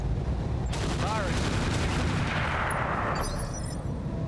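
Mech weapons fire in BattleTech with the RogueTech mod: a loud sustained roar of gunfire and blasts that swells after a brief lead-in and keeps rumbling dense and heavy throughout.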